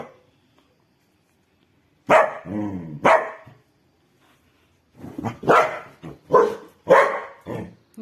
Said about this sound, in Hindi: उल्टा मेरे ऊपर भौंकता है